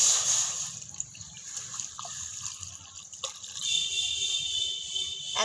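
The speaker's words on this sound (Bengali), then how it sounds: "কড়ার মধ্যে দিয়ে দিচ্ছি জল।" Water poured from a bowl into a clean wok set on a stove, a steady trickling splash heard close up and fairly quiet, with no talking.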